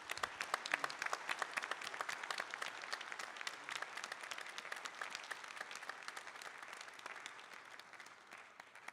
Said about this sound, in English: I would like to end with giving a hand of applause for our outgoing chair, MAG Chair, Mr. Paul Mitchell.